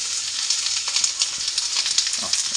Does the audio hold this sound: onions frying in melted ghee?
yes